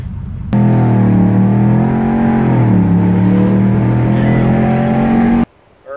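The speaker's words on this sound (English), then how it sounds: "I really want to get on the gas and hammer down and see what this thing feels like at 80 miles an hour." A 2015 RAM 1500 pickup engine drones loud and steady under acceleration, its pitch rising and dipping as it pulls through the gears, then cutting off abruptly.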